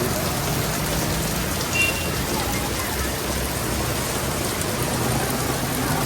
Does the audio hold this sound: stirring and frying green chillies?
no